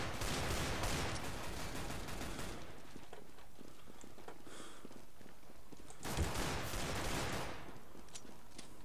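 Rapid automatic gunfire in Counter-Strike: Global Offensive rattles in two dense bursts separated by a few seconds of quieter scattered shots and clicks, loud and continuous without talk.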